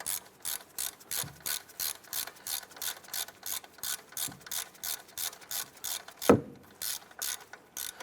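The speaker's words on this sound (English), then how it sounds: "Let's go ahead and snug down that bolt." A ratchet wrench snugs down the upper ball joint bolt on a 2015-2020 Cadillac Escalade, clicking in a steady run of about a dozen even, close ratcheting strokes, ending with one sharper metallic knock and a brief pause.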